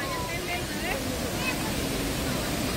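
Small waterfalls at Kuang Si Falls near Luang Prabang, Laos, rush and splash in a steady, even roar of flowing water, with faint voices briefly heard underneath.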